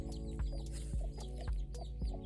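Pet chicken clucking repeatedly at close range, short rhythmic clucks in a steady series with some higher squawky notes, loud and alone with no talking.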